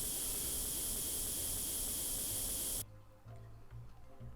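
In Tank Mechanic Simulator, a spray can primes a tank part with a long, loud, steady hiss that cuts off abruptly, leaving a quieter background hum.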